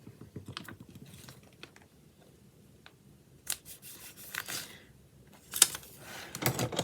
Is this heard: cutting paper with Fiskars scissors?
yes